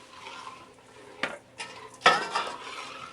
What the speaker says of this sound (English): Continue stirring until it thickens.